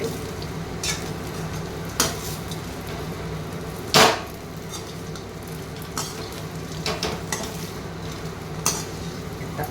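Ivy gourd pakodi deep frying in hot oil, giving a steady crackling sizzle with a few sharper pops and one louder clack partway through, and no voices.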